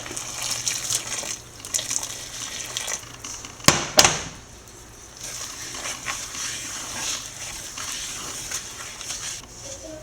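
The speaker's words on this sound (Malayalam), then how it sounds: "തിളച്ച വെള്ളം ഒഴിച്ചു കൊടുക്കുക" Boiling water poured from a vessel into roasted rice flour and salt for idiyappam dough, a continuous close splashing pour with one sharp clatter partway through.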